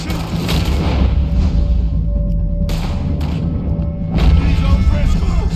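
Gunshots and booming blasts in Red Dead Redemption 2, dense heavy reports over loud continuous battle noise, with a few sharper cracks standing out.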